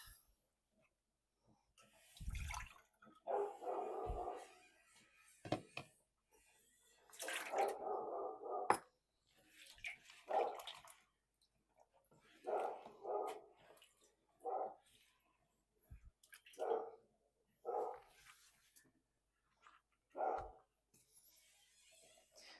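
A dog barks in irregular bursts, some single and some in quick pairs, somewhat muffled and distant, with quiet gaps between.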